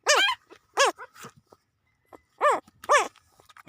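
A small female puppy gives a series of short, high whimpering yelps and barks, five bursts in two pairs with a pause between, close and clear in a quiet room.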